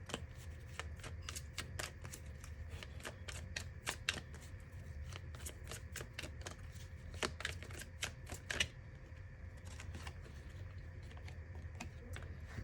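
Tarot cards shuffled and drawn by hand, giving repeated crisp riffling snaps in steady bursts over a low background hum, then quieting toward the end.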